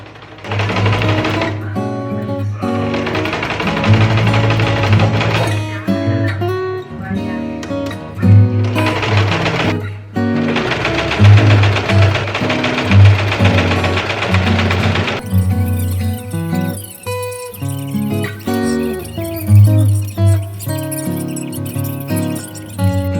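A sewing machine stitching fabric pieces together for homemade pajamas, running loud and close in long continuous stretches broken by brief stops.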